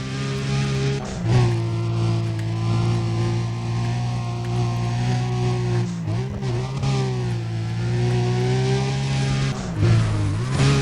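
A car engine in the Need for Speed: Undercover racing game accelerates hard, a loud steady drone rising in pitch with gear-shift dips around the second and tenth seconds, running continuously throughout.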